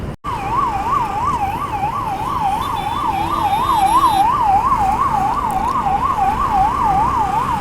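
A loud ambulance siren wails continuously in a fast, regular up-and-down pattern, close by, over steady traffic noise during Ganesh Chaturthi in Mehsana.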